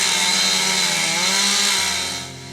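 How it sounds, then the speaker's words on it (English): A power saw cuts into a tree in a forest, its loud, steady whining buzz running near-continuously, then easing off slightly at the end. "the illicit logger started cutting the tree with his power saw"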